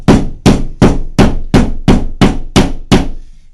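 A hammer taps a raised drywall edge flat with eight sharp, evenly spaced blows in quick succession, each struck close by and ringing briefly before the next one lands.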